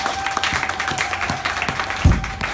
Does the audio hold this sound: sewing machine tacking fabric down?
no